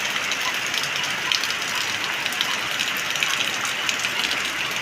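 Steady rain falls after a full day of downpour near a house terrace, a continuous, even hiss of drops on surfaces with no voices, fairly close and constant.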